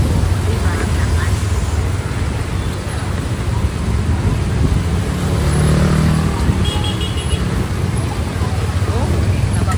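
Heavy rain pours steadily onto a road during a downpour, a dense continuous wash of noise mixed with passing car traffic and an occasional horn, with voices talking over it.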